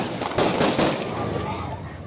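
A loud, dense burst of sharp cracks, gunshots fired into the air in quick succession by security forces breaking up a student protest in Herat, over a noisy outdoor background.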